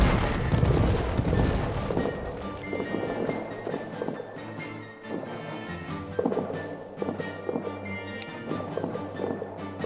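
Booming artillery fire in the World War One trench game All Quiet In The Trenches rumbles in heavy, rolling blasts, loudest at the start, with scattered sharp cracks and a noisy background, and no talk.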